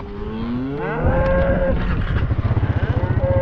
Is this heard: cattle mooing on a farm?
yes